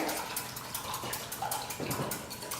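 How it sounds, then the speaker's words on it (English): Avocado oil drizzled into a vinaigrette while whisking in the kitchen, a steady close liquid trickle and swishing wash with faint clinks, continuous throughout without speech. "we'll drizzle in some avocado oil"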